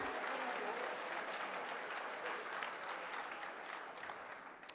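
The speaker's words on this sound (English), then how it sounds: "Huge round of applause for all of our sponsors here tonight" An audience at a formal winter ball sponsor dinner in Boston gives sustained applause, a broad, even wash of clapping from a large room that holds steady and ends with a sharp close knock.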